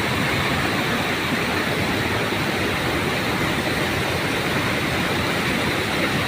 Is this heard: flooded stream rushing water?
yes